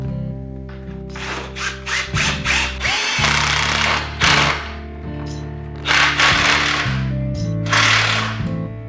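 A power drill drives 4x60 screws into a pine bed frame in repeated bursts, whining up and cutting out between runs, with clattering handling noises in the gaps.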